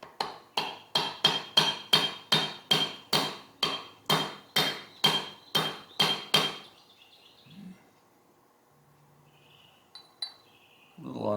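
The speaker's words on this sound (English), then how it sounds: "Give it a couple taps and see what happens." A tight-fitting part being tapped into place on an Industro-Lite mill vertical head, about sixteen sharp, evenly spaced metallic hammer taps close up, followed by quiet handling sounds and a few faint knocks.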